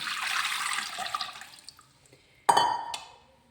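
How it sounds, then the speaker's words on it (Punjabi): Cold water is poured into a wok over freshly made paneer, a broad liquid rush that fades, then a sudden nearby splash and clatter near the end. "ਇਹਦੇ ਵਿੱਚ ਪਾਵਾਂਗੇ ਆਪਾਂ ਠੰਡਾ ਪਾਣੀ"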